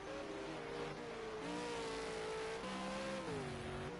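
A race car in a racing game pulls out of the pits at Brands Hatch, its engine droning steadily and rising in pitch through the gears, heard alone at a modest level.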